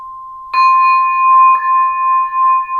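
Kyeeze spin gong struck with a lollipop mallet, two clear strikes about a second apart, each ringing into a long bright sustained tone that wavers and pulses as it spins, close and alone.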